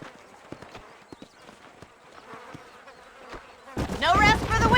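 Hooves clip-clop at an easy, uneven pace in Red Dead Redemption, a horse ridden across open ground with soft insect buzzing around, before a voice cuts in loudly at the end.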